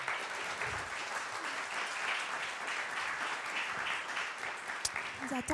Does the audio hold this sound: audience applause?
yes